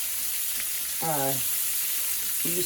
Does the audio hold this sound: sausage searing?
yes